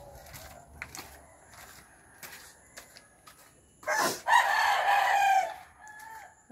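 Backyard chickens cluck in short scattered bursts, then a rooster crows loudly and close for a couple of seconds midway before the quiet clucking resumes.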